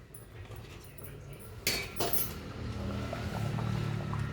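A metal plate used as a lid is lifted off a pot of simmering fish curry, giving a bright clank and clatter of metal on metal, followed by a soft steady bubbling hiss of cooking close by.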